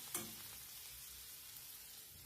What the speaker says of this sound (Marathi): लाल तिखट पण आपल्याला तेलावर छान परतून घ्यायचे